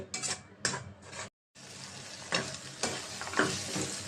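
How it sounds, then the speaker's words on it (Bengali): Spicy masala paste for a pangas fish curry sizzles hard in a pan and is scraped and stirred in bursts, with one brief silent gap, close and fairly loud. "মশলাটা ভালো করে কষাইয়া নেব একটু ঝাল ঝাল করে পাঙ্গাস মাছটা ভুনা করবো"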